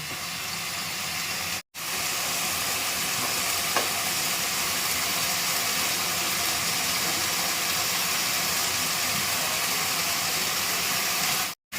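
Spinach frying and being stirred in a pan, a continuous even sizzle and hiss with no speech, broken only by two brief silent gaps.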